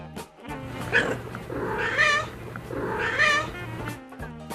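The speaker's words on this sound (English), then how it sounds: "The happy cat purred and purred." A cat purrs with a steady low rumble close by, rising twice into longer, drawn-out vocal swells.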